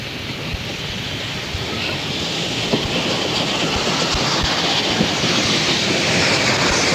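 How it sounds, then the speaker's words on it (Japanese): A D51 steam locomotive hauling a passenger train on the Chuo West Line in 1969 rolls along in a loud, continuous rumble with faint rhythmic clicks of wheels over rail joints, heard alone. "3番線に1列車長野行きが到着いたします。"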